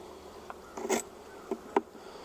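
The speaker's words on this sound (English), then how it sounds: "I see that the next box down has even more bees in it" Faint insect buzzing with a few brief louder passes of bees near the microphone, against a quiet background hum, from a swarm colony in stacked hive boxes.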